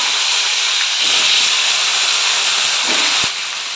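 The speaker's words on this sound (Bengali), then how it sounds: "সেগুলো সব এখন ভাজা করে নিচ্ছি।" Ripe pointed gourd (potol) slices fry in hot oil in a home kitchen, producing a loud, steady hiss and sizzle close by that eases slightly toward the end.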